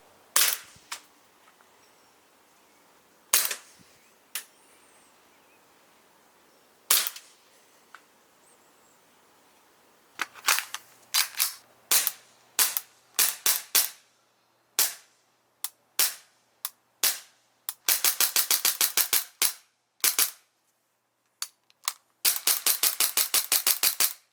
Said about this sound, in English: Let's go ahead and see how this thing chronographs and see how this thing shoots.